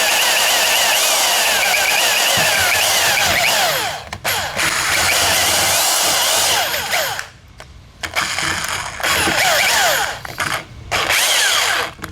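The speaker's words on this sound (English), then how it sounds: "Yeah, I need a better drill on this. This drill sucks." A loud, close power drill whines continuously while drilling metal on a car, shifting pitch as it bites, with a few brief stops and restarts.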